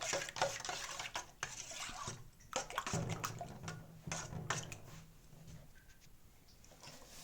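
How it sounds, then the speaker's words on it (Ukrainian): Half a liter of warm water swishes and sloshes in a bowl as it is stirred for yeast fritter batter, with light clinks against the sides and an uneven, continuous rhythm. "Беремо теплу воду, у мене пів літра. І розмішуємо."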